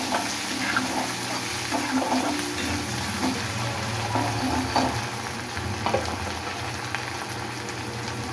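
Tomatoes sizzle and fry in a pan for prawn fry while being stirred, a steady moderate crackle with scraping stir sounds throughout, no talk.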